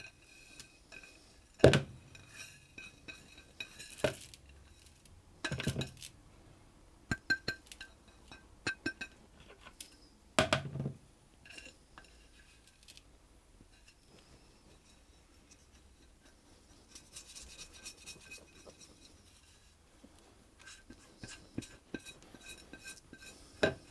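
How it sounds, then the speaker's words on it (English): A spoon stirs and mixes ingredients in a pan for a chicken ruby curry, giving a few sharp clinks against the metal among soft, scattered scraping and shuffling. The sounds are quiet and close, with no talking. "I'm just going to give those a mix around"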